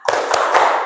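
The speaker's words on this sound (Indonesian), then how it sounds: "tepuk semangat" A class of students doing a rhythmic spirit clap, a few sharp, close claps in a quick pattern, loud and brief.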